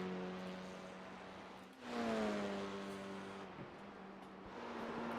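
F4 race car engine in a sim racing game at Oulton Park, droning steadily through a chicane, with a sharp downshift and a rising rev near the middle, then settling back into a sustained mid-pitched whine.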